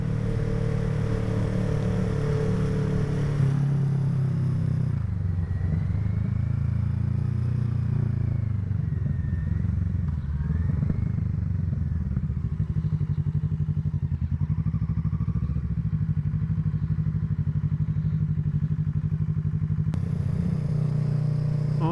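A motorcycle ridden home from work on a short commute rumbles steadily and close throughout, a continuous low engine drone with faint clatter and wind, no talking.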